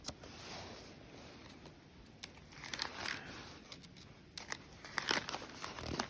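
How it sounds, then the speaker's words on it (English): Paper pages of a trail register book rustle and crinkle as someone fumbles to turn them, soft close-up scrapes and crackles in quiet surroundings. "There's a couple entries in here already if I can get the page turned."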